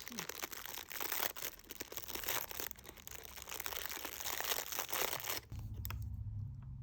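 Plastic film packaging wrapped around a skein of raffia yarn crinkles and crackles continuously at close range for about five seconds, then stops, leaving a low background hum.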